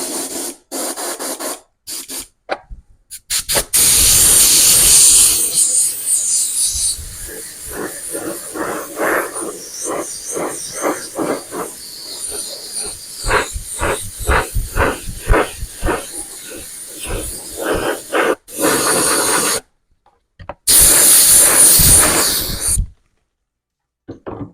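Spray paint hissing from an aerosol can onto an RC car body, heard as long loud bursts and strings of short pulsed sprays with brief silences between, close by and without speech.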